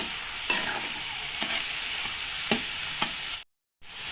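Chana dal and sugar are stirred together in a pan, with a steady hiss under a few sharp, evenly spaced spoon knocks and scrapes, close and fairly loud, then a brief drop to silence before the hiss resumes.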